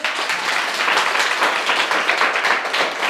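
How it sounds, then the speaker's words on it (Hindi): Students at a government village school in Uttar Pradesh clapping loudly for a guest, a close, dense and continuous burst of hand claps with no talking over it. "इनके लिए तालियां हो जोर से।"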